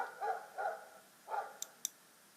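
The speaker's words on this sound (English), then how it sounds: "There's a barky dog here." A dog barks three times, fairly close and clear, followed by two sharp clicks in an otherwise quiet setting.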